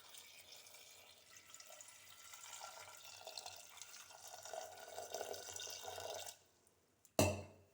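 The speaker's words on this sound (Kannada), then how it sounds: "ಈಗ ಇದಕ್ಕೆ ನಾನು ವಾಟರ್ ಆ್ಯಡ್ ಮಾಡ್ತೇನೆ" Water pours into a pot of ash gourd pieces for a mustard-style curry, a faint, continuous trickling splash that stops abruptly, followed by a short clank of the vessel.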